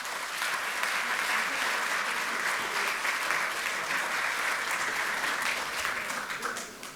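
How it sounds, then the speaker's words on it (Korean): Sustained, dense applause from a large audience at a Democratic Party assembly of National Assembly members, steady and loud before fading slightly at the end. "박수 한번 보내주시기 바랍니다."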